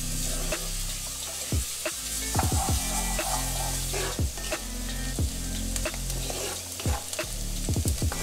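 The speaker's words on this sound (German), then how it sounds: "Dann kommen die Zwiebeln dazu und werden ca. 8 bis 10 Minuten gebraten, bis sie ganz weich sind und beginnen zu bräunen." Onions fry in a pan with cumin, cardamom and cinnamon, a steady close sizzle broken by repeated scraping stirs of a spoon, with no talk.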